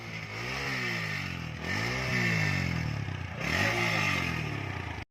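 A TVS Apache RTR 160 4V motorcycle with a faulty silencer is throttled three times in a row; each rev rises and falls in pitch with a raspy, rattling exhaust note, close and steady.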